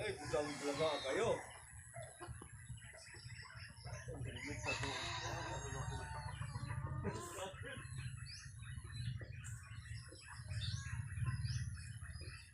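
A rooster crows and birds chirp, with people talking nearby through much of it.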